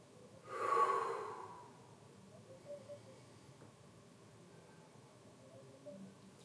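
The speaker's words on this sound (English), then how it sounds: "Take a nice deep breath in and out." A single deep breath during an Iyengar yoga sun salutation practice, one close, soft rush of air that swells and fades within about a second before a quiet room settles back.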